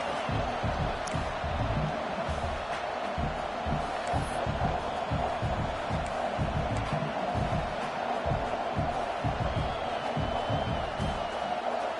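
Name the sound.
football stadium crowd cheering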